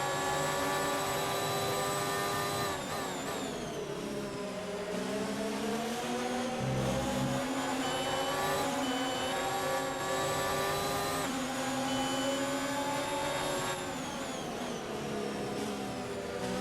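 Formula 1 race cars in the F1 2019 video game roar continuously at high revs, their engine pitch rising and falling through gear changes and corners, loud and steady throughout.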